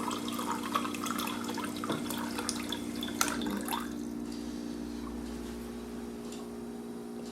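Water runs steadily from the dispenser of a Haier American-style fridge as a new filter cartridge is rinsed, a continuous close splashing flow with a few small drips, heard alone.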